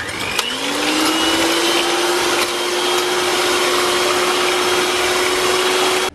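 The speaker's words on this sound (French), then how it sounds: "je vais commencer à monter mes blancs avec une petite pincée de sel" An electric mixer whips egg whites with a pinch of salt in a steady, loud whine that holds one even pitch from start to finish, with no voices.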